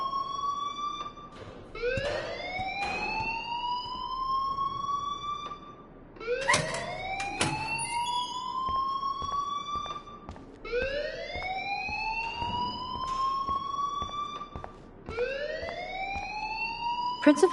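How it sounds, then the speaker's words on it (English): A school alarm in the video game Life is Strange wails in repeated rising electronic sweeps, each climbing tone lasting a few seconds before restarting, loud and continuous over a quieter game background. "please turn off that alarm since that's your job"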